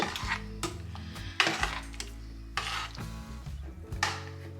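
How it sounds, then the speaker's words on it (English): A spoon stirring vegetables and broth in a cooking pot on the stove, several distinct metallic clinks and scrapes against the pot in an irregular rhythm, close and fairly clear. "give this a good stir"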